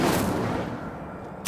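Incendio fire spell cast in the Hogwarts Legacy video game: a loud, dense burst of roaring flame and low rumble that gradually fades, then a sharp new blast right at the end.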